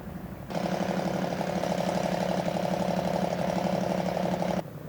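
A Cessna U206G Stationair piston engine in X-Plane 12 rises sharply from a quiet idle into a loud, steady, droning roar, held at constant power for about four seconds before cutting back abruptly.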